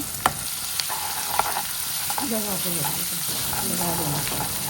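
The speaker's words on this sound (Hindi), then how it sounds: "अब डाल देते हैं बारीक कटे हुए प्याज और इनको अच्छे से पकने देंगे" Finely chopped onions fry in hot oil with dried red chilies, cumin, ginger and garlic, giving a continuous sizzle broken by occasional stirring clicks, while a faint voice-like tone murmurs underneath.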